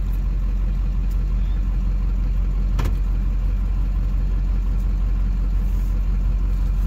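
A car engine runs steadily in reverse as a learner driver backs up, a low constant hum close by with one brief sharp click partway through, no talk over it.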